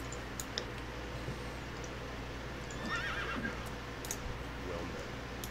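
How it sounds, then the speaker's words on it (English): A horse in the video game World of Warcraft gives a faint, brief whinny partway through, with hoof clip-clops and soft keyboard clicks under low game ambience. "why is the horse making noises?"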